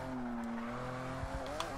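Race car engine in the Forza 6 video game pulling at full throttle, a steady strained drone that climbs slightly in pitch near the end, with brief tire noise and no talk.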